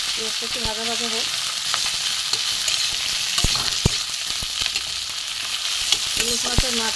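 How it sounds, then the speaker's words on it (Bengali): Onion pieces and a hilsa fish head fry in oil in a pan, giving a steady soft sizzle throughout with a few sharp clicks and stirring knocks, and no talk. "একটু ভাজা ভাজা হোক।"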